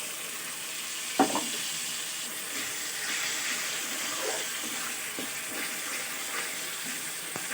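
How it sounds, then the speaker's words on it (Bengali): Ground spice paste for an egg omelette curry fries in a pan over lowered heat, giving a soft, steady sizzle with faint scraping as it is stirred and a splash of water added. "ভালো করে নাড়াচাড়া করে ভাজা ভাজা হলে কষানো হয়ে যাবে"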